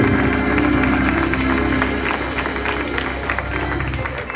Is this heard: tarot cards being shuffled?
no